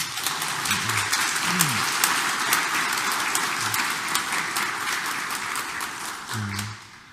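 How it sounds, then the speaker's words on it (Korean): A church congregation applauds during a Sunday parish-day Mass, giving sustained, even clapping that fills the nave for several seconds, with faint low voices and an organ-like tone briefly underneath. "우리 다시 한번 뜨거운 박수 한번 감사드릴까요?"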